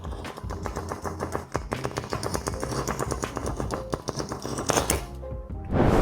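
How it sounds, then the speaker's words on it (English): A Bicycle deck of playing cards is riffled repeatedly, giving a fast, dense flutter of crisp card snaps in quick bursts, close and loud, ending with a brief rustle. "take a regular bicycle deck of cards and start riffling them"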